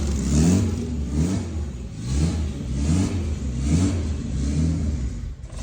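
A car engine runs after a glued head gasket repair, a loud, rough, close drone with a lumpy pulsing beat roughly every 0.8 seconds and no voices.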